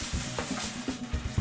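Salami sautéing in butter in a pan for homemade pizza, giving a steady close sizzle with soft rhythmic stirring scrapes and no talk.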